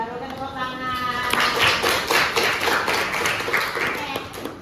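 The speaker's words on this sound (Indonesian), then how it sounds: "Tepuk tangan." A group claps hands at a school counselling session, a brief burst of loud, close clapping after a spoken line, with talk heard before and under it.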